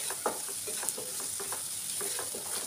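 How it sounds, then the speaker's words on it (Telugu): Ginger garlic paste with onions being stirred and fried in a pan over a medium flame, a steady sizzle running throughout with scraping stir strokes surfacing every half second or so, close and clear with no voices. "అల్లం వెల్లుల్లి పేస్ట్ వేసుకున్నాక ఒక 2 నిమిషాల పాటు మీడియం ఫ్లేమ్ మీద కలుపుతూ వేయించుకోవాలి"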